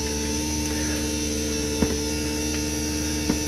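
The replacement motor and gearbox of a slide-out on a 2016 Keystone Sprinter RV run with a steady electric hum, close by, with a couple of faint clicks and no voices.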